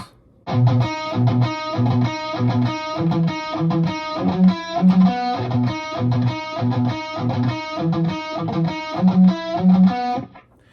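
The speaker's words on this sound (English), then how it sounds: "it's sort of like a palm muted variation riff of the main riff." A chugging, palm-muted distorted electric guitar riff, tight rhythmic notes repeating in a steady pattern for several bars.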